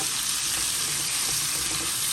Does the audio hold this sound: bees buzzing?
no